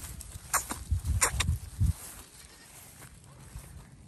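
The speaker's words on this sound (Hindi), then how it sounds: "काफी बड़ा बकरा है ये।" A large billy goat on a rural farm in Sanghar, Sindh, bleats in several short close bursts during the first two seconds, then quieter farmyard rustle follows.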